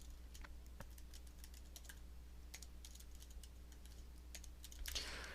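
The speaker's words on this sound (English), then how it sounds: "So I'm going to type in my homepage URL." Quiet, steady typing on a computer keyboard as a URL is entered, irregular clicks and taps with a slightly louder clatter near the end.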